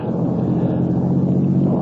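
A deep, loud rumble of thunder rolls steadily and heavily through a radio-drama storm.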